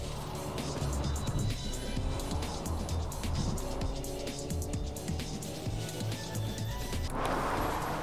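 A car in the Fortnite video game, a continuous engine drone with shifting tones and a sudden harsher burst near the end, played fairly quietly with a faint voice in the background.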